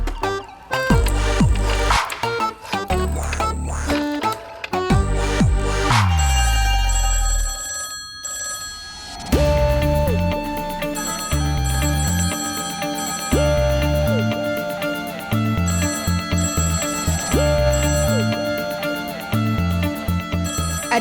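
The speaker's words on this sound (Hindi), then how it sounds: "कोई फोन तो उठाओ।" An old telephone bell rings in repeated loud bursts, stopping and starting in a steady rhythm, with a stretch of background music and tones layered beneath; no talking.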